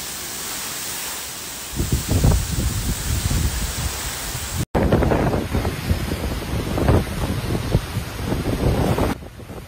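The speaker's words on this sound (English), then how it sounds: "Tropical cyclone Jasper has now upgraded to a Category 2 cyclone and is producing damaging wind gusts" Damaging gusts from Category 2 tropical cyclone Jasper crossing the Queensland coast, a loud continuous roar of wind buffeting the microphone in surging bursts, with a brief cut midway and no voices.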